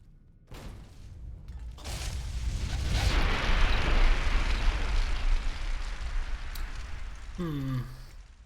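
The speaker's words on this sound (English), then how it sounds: "Grenade!" A grenade detonates in the video game Fallout: New Vegas, a deep, loud boom that swells and rumbles for several seconds before trailing off, with a short electronic tone near the end.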